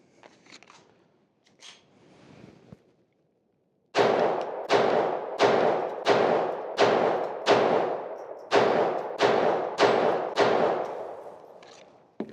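An FN502 pistol fires ten shots outdoors in a quick, even string, each report sharp and loud with a brief echo, after a few quieter clicks and handling noises.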